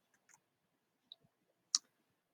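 A computer mouse clicks a few times while someone drafts text on a computer: a couple of soft early taps, then one sharp, close, distinct click near the end, with quiet gaps between them and no talking.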